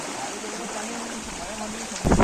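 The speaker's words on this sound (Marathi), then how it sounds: "आणि हवा पण कशी जोराची हवा सुटते" Strong wind rumbles steadily across the microphone on the Konkan coast during crab catching, then a louder gust buffets it at the end.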